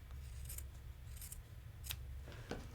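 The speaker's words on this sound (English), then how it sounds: "Now I'm going to take this, trim off the excess." Scissors snip through excess single-fold quilt binding fabric in a few quiet, separate cuts with brief pauses between them, close up and with no talking.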